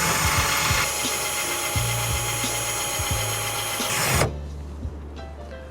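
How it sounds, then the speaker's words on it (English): A power drill drives a 1/8 step drill bit into a Mustang GT500 during a spoiler install, a steady high whine with short bursts and pauses for about four seconds before stopping abruptly. "just refine the holes that you drilled with the 1/8 step drill bit."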